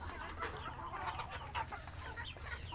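Chickens on a small backyard chicken farm cluck and chatter steadily in a quiet, continuous flock murmur with a low rumble underneath and no one speaking.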